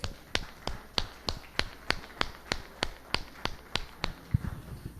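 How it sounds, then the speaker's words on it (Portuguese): At a church service, claps sound in a slow, evenly spaced beat of about fifteen crisp strikes, sharp and distinct against a quiet room rather than a blended crowd roar. "Uma salva de palmas ao Senhor"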